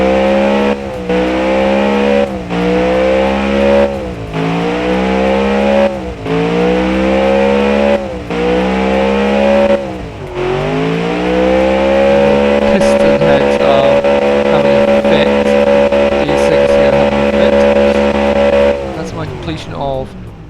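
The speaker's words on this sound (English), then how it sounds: "Now let's just take it right up through the revs without stopping." A big NASCAR V8 engine revs repeatedly in short bursts, then climbs and holds at high revs before dropping off, loud and close.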